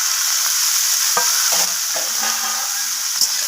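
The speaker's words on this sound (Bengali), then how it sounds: "তো সমস্ত কিছু সবজি একসাথে নাড়াচাড়া করে একটু ভাজা ভাজা করে নিচ্ছি।" Mixed vegetables, including ridge gourd, long beans and eggplant, frying in a pan with a continuous sizzle broken by several distinct spatula scrapes and clinks as they are stirred, close and without talk.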